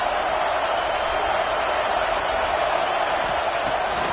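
A large college football stadium crowd roars steadily and loudly throughout, a dense continuous wall of cheering and noise with no breaks.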